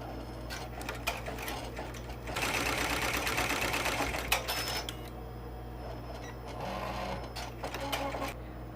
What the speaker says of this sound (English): the next step will be the satin stitching around that applique